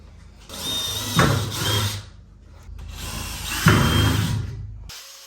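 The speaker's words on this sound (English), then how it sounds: "Then we can move the bed up and finish drilling it." A power drill bores through metal brackets on a Cushman Hauler Pro utility golf cart, in two close, loud, sustained runs of whirring with a brief pause between them.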